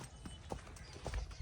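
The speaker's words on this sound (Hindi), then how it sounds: "घोड़े की मैंने वाग छोड़ दी है और देखेंगे मेरे साथ साथ चल रहा है" A horse named Mastana walks alongside its handler with the reins loose, its hooves clip-clopping in a steady, unhurried walking rhythm, close and clear over a low outdoor background.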